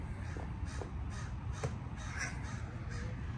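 Crows cawing at Lake Louise in Banff, Alberta, a series of short harsh caws repeating every half second or so, moderately distant over a steady outdoor background hiss.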